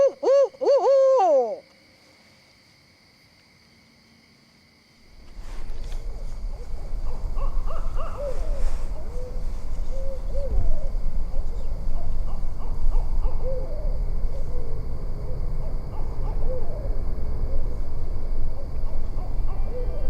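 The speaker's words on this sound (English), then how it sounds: "One of those sounds, hopefully, is a nearby owl." An owl hoots several times up close, clear and loud, then the call stops and a steady outdoor rumble with faint background chatter and noise takes over.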